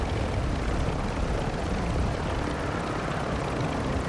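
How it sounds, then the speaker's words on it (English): A helicopter in a video game gives off a loud, steady broadband roar of rotor and engine noise, unbroken and close throughout, with no voices over it. "I got the chopper."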